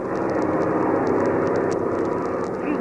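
Radio drama sound effect of an airplane flying at 5,000 feet, a loud continuous droning engine roar held steady throughout.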